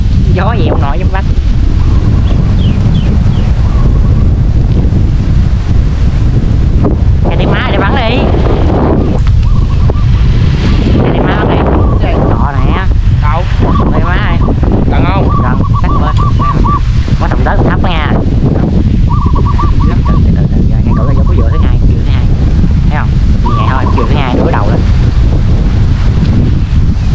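Strong wind roaring across an open outdoor spot with overhead power lines, a constant heavy buffeting rumble on the microphone, with faint voices and a few brief tonal chirps under it.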